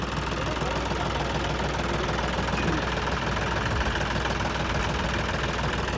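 A modified John Deere 5405 tractor engine runs steadily and loudly at close range, giving a dense, constant mechanical roar with a throbbing low end and no pauses.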